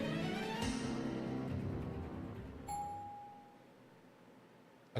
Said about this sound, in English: The gentle chime of an elevator shatters the silence